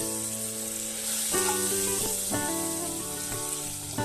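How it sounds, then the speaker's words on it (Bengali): Chopped tomato masala with salt and a little turmeric sizzles steadily in a pan while being stirred, a continuous close frying hiss with melodic background music playing over it. "স্বাদ মতন লবণ আর একটু হলুদ দিয়ে ভালো করে মশলাটা আমি নাড়াচাড়া করে ভেজে নেব"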